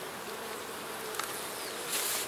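Honey bees hum steadily around an open hive lid, a dense continuous buzz close by that swells slightly louder near the end.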